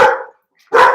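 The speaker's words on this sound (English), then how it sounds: "The dogs are barking because the male person just came in and just dropped the mail off." House dogs bark at a mail delivery, two sharp, loud barks close by, separated by a brief silence.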